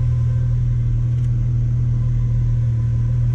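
Ford GT heard from inside as a steady, loud, low engine drone with a deep rumble, holding a constant pitch with no clear revs or gear shifts.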